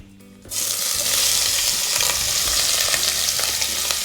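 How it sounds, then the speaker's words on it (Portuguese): Shrimp hit very hot olive oil for a shrimp risotto, and the quiet start bursts into a loud, steady sizzle with crackling spatters and faint stirring knocks, heard up close. "Vamos só saltear esse camarão, porque o camarão é muito rápido, gente."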